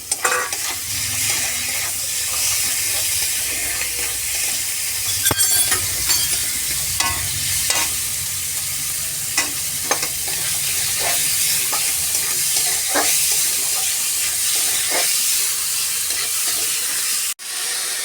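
Chicken mince with chopped green chilli frying and being stirred in a pan, a steady loud sizzle broken by repeated scraping strokes and short clinks, no voices.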